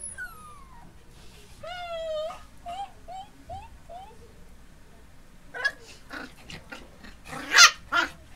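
A nearby Miniature Pinscher and a puppy give a series of short, pitched yelps and whines, then a few sharper barks and snarls toward the end.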